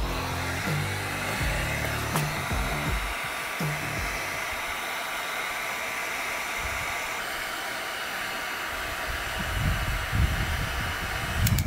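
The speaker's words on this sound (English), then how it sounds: "take the heat gun and then just heat up the surrounding area where the bearing's gonna drop in" A heat gun warms the area around the wheel bearing seat on a Honda 400ex ATV, making a loud, steady blowing roar close up that runs unbroken throughout, with a few faint clanks at the start.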